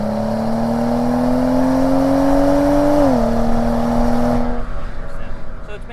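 A BMW E90 335i with a twin-scroll turbo accelerates at full throttle, a loud, close engine drone rising steadily in pitch, then dropping briefly at a shift before climbing again and easing off.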